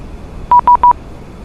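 A CPDLC air traffic control message notification chime sounds in the Microsoft Flight Simulator PC-24 cockpit: three quick, identical electronic beeps in even rhythm, loud and clear against near silence.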